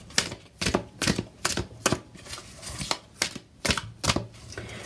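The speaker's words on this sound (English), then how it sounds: "I'm going to give the cards a shuffle." A deck of oracle cards is shuffled by hand, giving a run of crisp, evenly spaced slaps and taps close up, with no talking.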